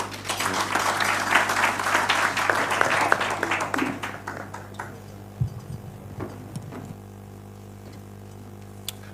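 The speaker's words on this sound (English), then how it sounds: "Another round of applause for the Honorable Raul Omondi." Crowd applause for the Honorable Raul Omondi at a Kenyan political gathering, thick clapping for about four seconds that fades into a few isolated claps and a low hum.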